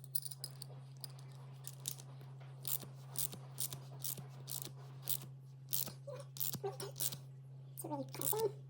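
Ratcheting clicks from tightening a phone mount in the center console of a 2024–2026 GMC Sierra 2500/3500 HD pickup, a series of close, sharp clicks in irregular bursts over a steady low hum.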